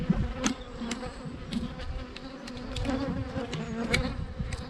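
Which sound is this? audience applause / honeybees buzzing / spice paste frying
honeybees buzzing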